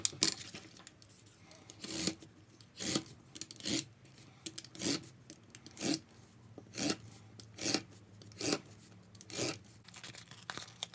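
A blade scores card for a craft model, making about ten crisp, rhythmic scraping strokes spaced roughly a second apart, close and distinct against a quiet background.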